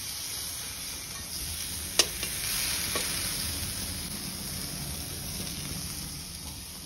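Lentils frying in a pan while making Assamese papaya khar, a steady close sizzle with a sharp clatter near two seconds and stirring scrapes, no talk over it.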